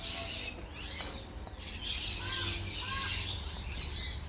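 Birds call in a Barbados nature park, with a few faint chirps and squawks rising over steady outdoor background noise, fairly distant and without speech.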